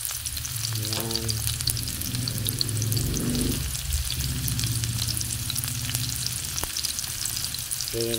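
Garlic and onion fry in a pan for mussel adobo with oyster sauce, a dense, even sizzle like light rain that holds throughout, with occasional soft stirring scrapes and brief tonal squeaks, close and without talk.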